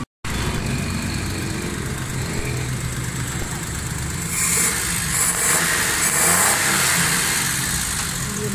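A Suzuki Cultus three-cylinder car engine runs after a carburetor repair, idling steadily and close up with a brief rise in revs toward the end, without speech.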